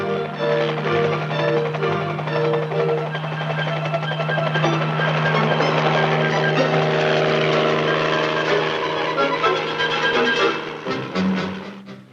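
A US Army helicopter drones steadily for about twelve seconds with a loud, even low-pitched hum and layered whining tones, fading slightly at the very end, with no voices over it.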